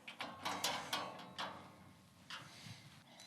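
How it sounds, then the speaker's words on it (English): Screwdriver tightening four small screws on the bottom of a grill side table, a rapid series of close, crisp ratcheting clicks and scrapes in short bursts, with no talk. "and just nip it up with the screwdriver."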